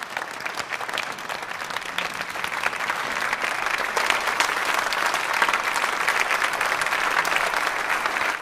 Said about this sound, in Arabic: صار من حق الجمهور يصفق، والحالة القصوى للإعجاب هي إنك توقف أنت وعم تصفق